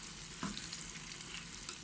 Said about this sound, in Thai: เทไข่ลงไปในหม้อทอดเลยนะคะ